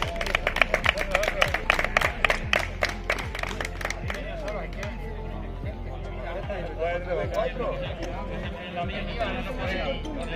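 An audience claps at a regional greyhound championship with a mechanical lure in Castilla-La Mancha, a brisk burst of applause that is strongest at the start and then thins out, with a voice speaking over it.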